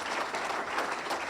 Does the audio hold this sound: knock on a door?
no